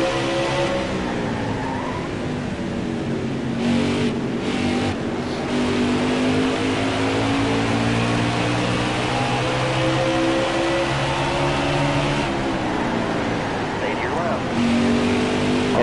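Stock car engines in the video game NASCAR Heat 5 drone steadily throughout, rising and falling slightly as the cars race, with someone talking continuously over the engine noise.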